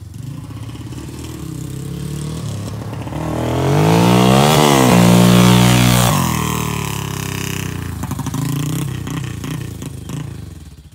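A Yamaha Warrior 350 ATV engine putters unevenly, revs up into a rising, wavering roar, then sags and cuts out in a stall before ragged idling resumes, close and loud.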